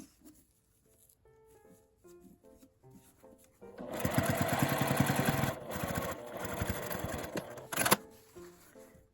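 Sewing machine edge-stitching elastic folded to the right side of an ironing board cover made from grid fabric, a loud steady run of rapid stitching after a few quieter starts, with short pauses and a final burst.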